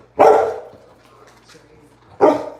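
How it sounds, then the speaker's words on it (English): Two loud, close dog barks about two seconds apart, each a sharp burst that trails off, with a quiet household background between them. "Don't stand there and bark like that."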